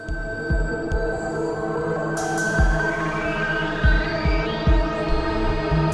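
A rhythmic sample playback device plays drums with reverb, giving a regular series of deep, thumping kick-like beats over a sustained humming synth pad, and nobody speaks.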